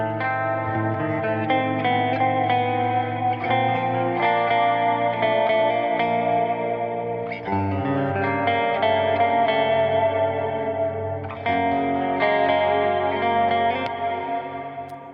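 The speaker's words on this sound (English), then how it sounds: "I really like this compressor for clean sound." A clean electric guitar plays sustained chords through a CLA2A compressor with an even, compressed tone and a touch of ambience, ringing continuously without any voices.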